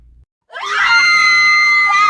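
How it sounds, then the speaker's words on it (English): Two women scream together as an elevator floor gives way, a sudden loud, sustained high-pitched shriek after a brief pause, holding steady and close for nearly two seconds. "the floor collapsed and both women began to scream."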